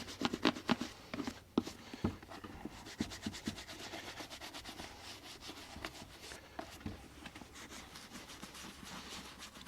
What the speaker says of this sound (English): So we use a soft horsehair brush to work the grease into it.